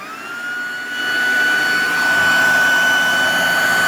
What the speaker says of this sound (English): it just isn't a screaming loud little vacuum